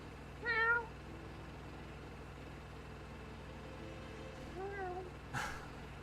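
A cat in the video game The Vanishing of Ethan Carter gives two clear meows a few seconds apart, the first louder, against a quiet background.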